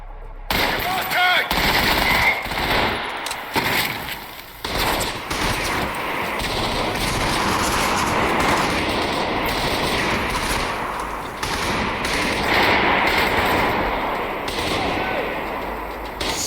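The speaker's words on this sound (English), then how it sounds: "So they're still shooting the area where they think I am." Video game firefight with bursts of machine-gun fire, some near and some farther off, crackling almost without pause, with a voice talking over it.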